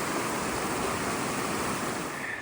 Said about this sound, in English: this will be Upper Canyon Falls